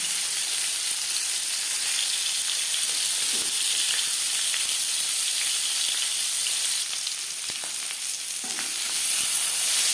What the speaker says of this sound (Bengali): চার চামচ রিফাইন্ড অয়েল এবার দিয়ে দেব ম্যারিনেট করে রাখা মাছ